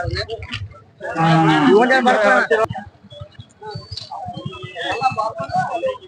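A pair of Jawari bullocks at the weekly Tuesday cattle market in Kalghatgi, Karnataka, with one loud, drawn-out moo close by, followed by shorter lowing calls mixed with people talking nearby.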